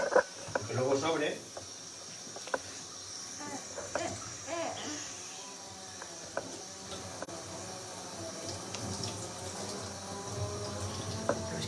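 Water runs and splashes while sausage casings are cleaned for making morcilla blood sausage during a home pig-slaughter mondongo, a steady wet rush under people talking, with clattering handling sounds.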